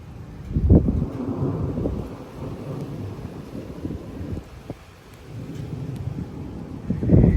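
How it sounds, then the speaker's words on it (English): Strong thunderstorm wind gusts of around 60 mph buffet the microphone in a steady low roar that swells, eases off midway, then surges again, with rustling trees and possible rain mixed in. "And that's not the end of the 60-mile-an-hour wind."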